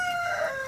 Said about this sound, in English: Dispute between roosters.